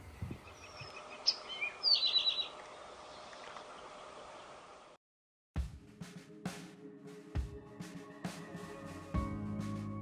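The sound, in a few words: bird calling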